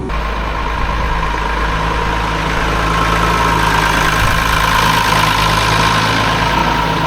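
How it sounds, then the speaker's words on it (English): A high-horsepower tractor, a 1200 used for rolling, idles loudly and steadily with a constant deep engine drone and vibration throughout. "This is a rather high horsepower tractor for such a dopey little task of rolling"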